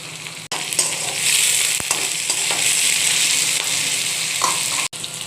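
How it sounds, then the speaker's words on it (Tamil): Onions sautéing in a pan for a Tamil-style cauliflower fry, a steady broadband sizzle running continuously at close range, with a few brief stirring clicks and no talking. "இப்போது வெங்காயம் நல்லா வதங்கட்டுங்க."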